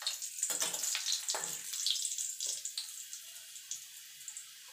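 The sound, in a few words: dry red chillies frying in hot oil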